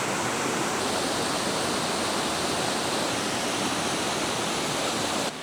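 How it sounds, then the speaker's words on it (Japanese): A powerful, high-volume waterfall beside a rest area near a mountain shrine at the headwaters of the Shimanto River in Kochi, giving a dense, constant roar that fills the whole clip without pause. "水量があって力強さを感じるような滝ですね"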